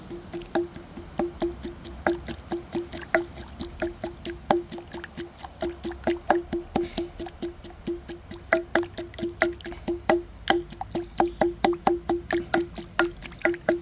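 Kaffir lime fruit pounded in a little water, a steady run of wet, squelching thuds repeating quickly and closely with a faint ringing knock on each strike, carrying on alone without voices.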